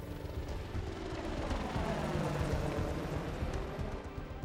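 An AH-64 Apache military helicopter, a broad steady rotor and turbine roar that swells slightly in the middle, heard alone without speech.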